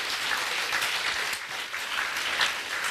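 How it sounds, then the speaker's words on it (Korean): A church congregation applauds, a dense, sustained burst of many hands clapping that swells and dips slightly without stopping. "한번 하나님께 큰 박수를 한번 보내볼게요."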